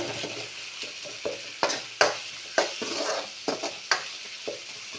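A spoon scraping and stirring a thick tamarind mixture in a pot, with irregular clanks and soft sizzling between strokes, close up.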